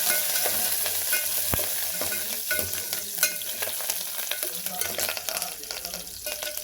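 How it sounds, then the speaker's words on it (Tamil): Curry leaves and garlic sauté in oil in a pan for rasam, giving a steady close-up sizzle with occasional spatula scrapes and sharp pops, no voices. "கருவேப்பிலை போட்டு நல்லா வதக்கிக்கோங்க"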